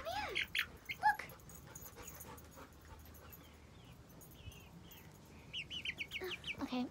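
Several dogs in a dirt backyard make yelps, whimpers and barks in short bursts, loudest at the start and again toward the end, with birds chirping faintly in the background.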